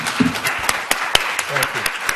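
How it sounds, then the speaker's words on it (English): Small audience at a negotiation-skills event giving a round of applause for Mr. Cohen; scattered sharp claps ring out briefly while a voice talks over them. "Everyone give a great round of applause for Mr."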